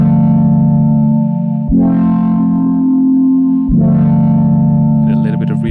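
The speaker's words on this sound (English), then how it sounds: "let's create a third one that is much more gritty. So really turn up the drive." Notes from a Casio vibraphone sample, pushed through heavy drive distortion, ring out as loud gritty sustained tones, changing pitch in three held segments, with a distorted buzzy edge throughout.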